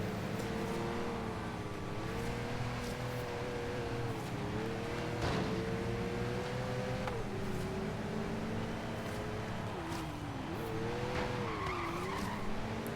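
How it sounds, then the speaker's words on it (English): An SUV's engine drones and rises in pitch during a Forza Horizon 3 race, with repeated tire squeals and skids over continuous racing noise. "Not used to driving these SUVs. They definitely handle a little bit differently."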